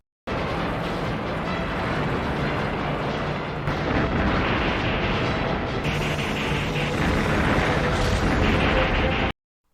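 Loud, sustained explosive rumbling and crashing debris roar continuously as film explosions topple buildings onto Godzilla, intensifying midway through.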